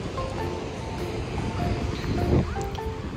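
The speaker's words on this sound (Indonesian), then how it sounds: "Nah ini Pantai Melasti kalau dari jauh ini" Continuous rush of surf at Melasti Beach, Bali, washing steadily with wind buffeting the microphone, swelling slightly midway, with no clear talking.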